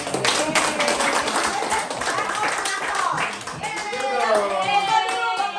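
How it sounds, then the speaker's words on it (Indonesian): An audience at a school teacher-training session claps for the moderator, a steady patter of many hands lasting several seconds, with voices chattering over it. "Jangan lupa tepuk tangan buat moderator."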